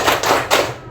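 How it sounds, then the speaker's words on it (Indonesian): A group performs the tepuk semangat clapping chant, a few loud claps landing in quick bursts close by with no talk over them. "Tepuk semangat."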